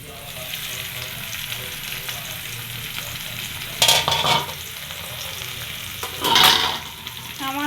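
Mixed vegetables for shukto sauté in a covered pan, giving a constant close sizzle with two louder bursts of hissing and clattering partway through.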